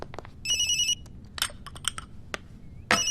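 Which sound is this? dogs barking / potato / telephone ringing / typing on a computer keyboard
telephone ringing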